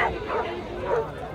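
Dogs barking and yipping amid a crowd at an outdoor dog festival in Cheshire, with voices talking over them.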